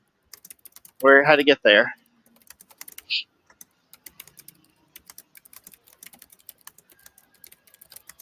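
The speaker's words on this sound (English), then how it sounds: "I know you can probably hear me typing a whole bunch just there." Rapid, light clicking of a computer keyboard runs steadily through a quiet livestream, with a short burst of speech near the start and the typing continuing faintly alone afterward.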